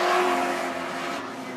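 Outlaw sedan race cars at night at Macs Speedway, Australia: a steady, loud engine roar with a sustained droning pitch, easing slightly as the car runs on, with no talk over it.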